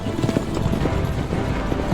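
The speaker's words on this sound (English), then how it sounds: "So we give chase on a horse and carriage" Horse hooves clip-clop rapidly as a horse and carriage gallop in a chase in the video game Assassin's Creed Revelations, a dense continuous clatter at close range.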